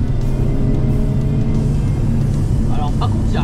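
A Mercedes A45S AMG roars steadily from inside the cabin, its deep engine drone loud and constant while the car drives and accelerates, with people talking over it.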